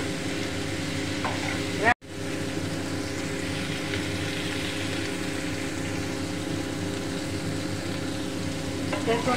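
Greens, likely bean-plant leaves or coriander, frying with shrimp in a pan, a steady broad sizzle lasting throughout with a brief dropout near the start and faint stirring.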